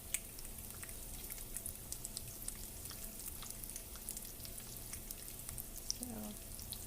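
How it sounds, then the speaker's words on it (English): Dried fish lightly frying in oil, a soft steady sizzle with scattered crackles and small pops throughout, fairly quiet and close, with a brief faint voice near the end. "So really just lightly fry it."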